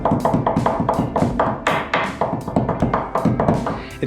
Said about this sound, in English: the noise that your ball joints are gonna make when they are on their way out is going to be very similar to this